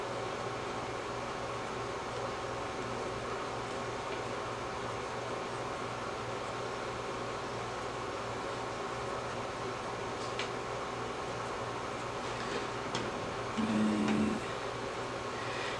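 A sewing machine runs steadily while stitching front and back yoke pieces of a McCall's 7331 garment, a continuous low whirring hum with faint mechanical clicks toward the end and no talking.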